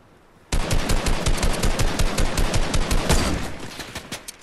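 Rapid video game gunfire erupts loud and close after half a second of quiet, a dense fusillade of repeated shots with sniper-style cracks mixed in, continuing steadily for about three seconds before thinning out.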